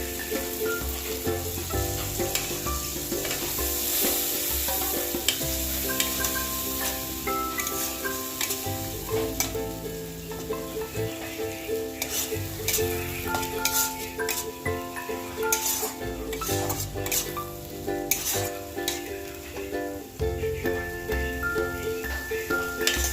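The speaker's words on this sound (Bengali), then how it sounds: "পোস্ত বাটাটা দিয়ে একটু কষিয়ে নেব।" Poppy seed paste sizzling and frying in a pan during home cooking, a steady hiss with occasional stirring scrapes and light clinks, close and clear, with faint background noise and no talk.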